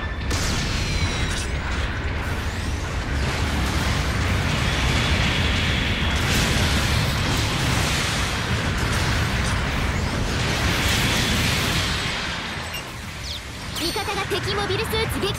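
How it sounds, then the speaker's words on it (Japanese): Repeated artillery blasts and heavy impacts from a support bombardment in Gundam Battle Operation 2, a dense and sustained roar of explosions with mechanical clatter. The din eases briefly near the end. "砲撃が来ます。"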